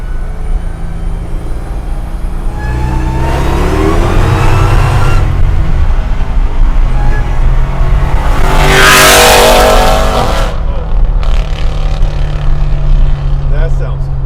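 A 745 hp supercharged Hellcat engine in a Chevy C10 truck revs loud and close, rising to a roaring, whining peak before it settles, while people talk over it.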